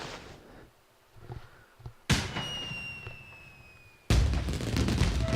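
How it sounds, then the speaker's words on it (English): A firework bomb bursts in the video game Okami HD: a sharp blast with a high descending whistle, then a second louder boom that keeps crackling. Both are loud and close over a quiet game background. "Or it turns into a firework"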